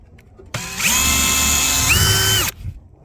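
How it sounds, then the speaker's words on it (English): A power drill bores a tiny hole for a zip tie during a step installation on a Ford Super Duty truck, whirring loud and close for about two seconds with a pitch shift partway through. "we have a drill, so we're going to use a drill for it"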